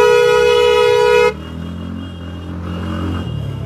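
Busy road traffic during a motorcycle ride, with a loud, steady vehicle horn blaring for over a second before cutting off, leaving rumbling engine and traffic noise underneath.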